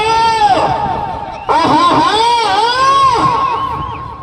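A crowd shouting and cheering loudly at a village bull race, a dense roar of voices with rising and falling yells that swells after a brief dip, close and continuous.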